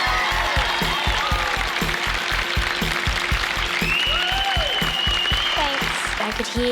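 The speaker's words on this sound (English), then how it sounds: "could hear my mum and my dad calling my name and cheering and clapping" A studio audience applauds the junior cooks on a cooking competition show in steady, dense clapping throughout, with music and light cheering underneath.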